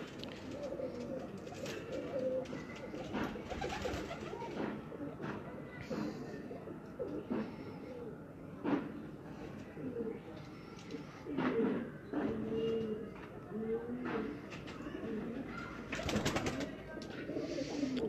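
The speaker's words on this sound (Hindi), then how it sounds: "यह एक और कमगर कबूतर है" Pigeons cooing in a Faisalabad pigeon loft, repeated low throaty coos close by, with someone talking over them throughout.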